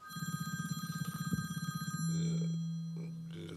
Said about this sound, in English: That's your phone ringing.